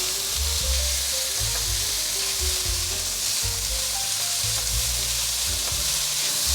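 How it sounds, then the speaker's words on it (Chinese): Green peppers and a seasoned filling with white sesame are stir-fried fast in a wok, a dense continuous sizzle with rhythmic scraping and tossing sounds throughout. "现在放入青椒，继续快速的翻炒"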